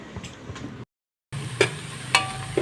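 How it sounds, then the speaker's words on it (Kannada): Onions frying in a pan while making pulao, a steady sizzle with a few brief stirring scrapes and clinks, broken by a short silent gap, close and moderately loud. "ಈರುಳ್ಳಿ ಚೆನ್ನಾಗಿ ಹುರ್ಕೊಳ್ತಾ ಇದ್ದೇನೆ"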